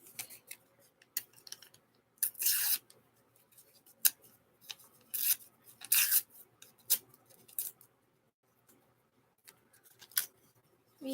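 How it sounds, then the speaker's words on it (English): Paper is torn and ripped up by hand in short, irregular bursts of sharp crinkly tearing, separated by quiet pauses, close and moderately loud with no talking. "We love ripping up paper."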